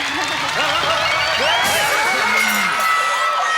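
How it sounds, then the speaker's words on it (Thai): A studio audience on a Thai dating show applauding and cheering, with dense steady clapping mixed with loud shouts and whoops throughout. "ปรบมือค่ะ"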